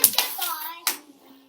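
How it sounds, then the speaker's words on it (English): A group of young children in a classroom give a quick power clap on a count of three, a few sharp hand slaps close by, mixed with a voice and an adult speaking. "Power clap on 3."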